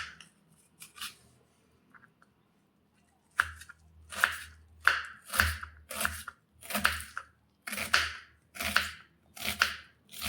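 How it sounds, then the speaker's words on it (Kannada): A knife chops onion finely on a board, first a few scattered cuts and then a run of regular, crisp strokes about every half second, close and clear with no talking. "ಚಿಕ್ಕದಾಗಿ ಈರುಳ್ಳಿ ಕಟ್ ಮಾಡ್ಕೋಬೇಕು."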